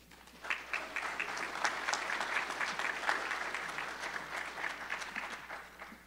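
An audience at a community candidates forum gives a steady round of applause, a dense wash of clapping that swells quickly, holds for several seconds and fades slightly toward the end, with no talking over it.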